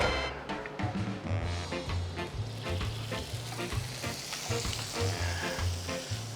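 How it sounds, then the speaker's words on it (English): A touch of butter sizzles in a frying pan while a sandwich is grilled, giving a continuous crackling fry with periodic clatters and scrapes of a utensil, heard close without speech. "now I'm going to put some butter into our pan"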